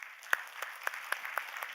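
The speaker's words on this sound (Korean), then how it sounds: "방향을 이쪽으로 돌려서 한번 박수 한번 보내세요." A church congregation applauding, a light, sparse patter of claps at a moderate distance, fairly quiet and brief.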